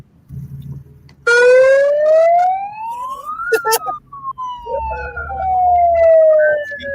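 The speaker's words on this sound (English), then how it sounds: "I gotta get my siren out, Paul." A loud siren wails upward, peaks, then slowly winds down, close by, with low voices murmuring underneath.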